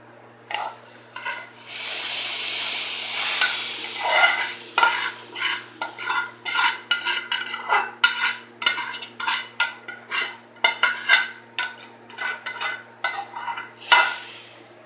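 Roasted vermicelli for sheer khurma is stirred into milk in a pot after the milk has boiled for a long time. A long, soft hiss is followed by repeated close, rhythmic scraping and sloshing strokes, with no talking.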